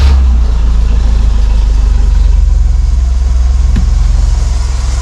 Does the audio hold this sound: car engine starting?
yes